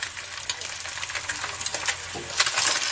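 An egg fries over easy in a hot pan, crackling and spitting in a steady, bright sizzle with sharp pops scattered throughout, close up and without any voice.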